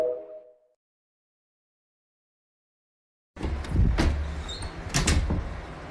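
A door is forced and rattled after a short tone and a silent gap, loud close thumps and sliding scrapes over about two and a half seconds.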